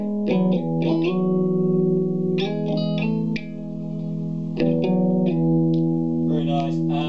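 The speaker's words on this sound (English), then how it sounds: "I've got the reverb on, I've got it set to the spring setting" Electric guitar chords through an Orange CR120c amp, reverb on the spring setting at 6, ringing out with a washy spring reverb tail, strummed notes sustaining and blooming between picks.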